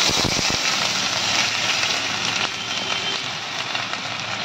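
Onions fry in sesame oil for a dried prawn dish, giving a loud, close, steady crackling hiss with a few quick pops at the start.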